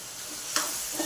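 Turmeric and salt sauté in a pan for a spicy vam fish curry, making a brief, close hiss of frying with a soft stirring scrape partway through and no voices.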